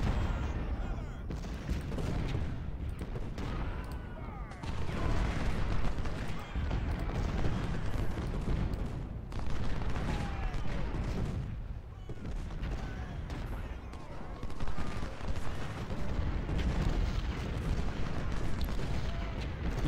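Dense rolling artillery booms and crackling musket volleys from a Civil War battle at South Mountain in Ultimate General: Civil War, continuous and loud throughout with overlapping distant and near blasts.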